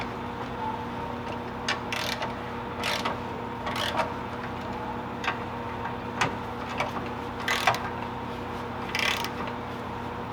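A socket ratchet clicks in short bursts while tightening exhaust bolts on a BMW M5 in a garage, quiet irregular ratcheting over a low steady hum.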